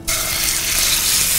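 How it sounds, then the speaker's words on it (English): Fresh diced chicken breast sizzles in olive oil in a hot pan: a loud, bright, continuous frying hiss that starts abruptly as the meat hits the oil and holds steady. "Love that sizzle, right?"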